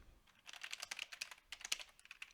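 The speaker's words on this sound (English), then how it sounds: "Whoops, typing it in the wrong window there." Quick, irregular clicking on a computer keyboard as someone types, light and fairly close, with short pauses between bursts of keystrokes and no voices.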